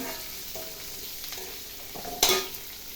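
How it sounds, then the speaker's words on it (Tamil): Small onions sauté in a pan for a murungai keerai (drumstick leaf) chutney, a soft continuous sizzle with a few stirring scrapes and one louder clatter near the end, no talking. "வெங்காயம் வதங்கட்டும் நல்லா."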